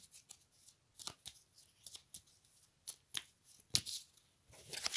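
Oracle cards are shuffled and drawn, giving quiet, close card slaps and rapid riffling flicks in irregular bursts, with no talk over them.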